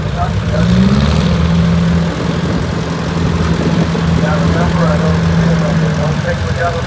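A 1950s Cockshutt tractor with a four-cylinder engine rumbles past at a tractor parade, its low steady chugging nearby while an announcer talks over it.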